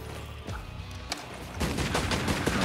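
Gunfire in the video game Tomb Raider Legend, Nepal level: scattered shots early, then a dense rapid burst of repeated gunshots swelling louder toward the end, with no talk.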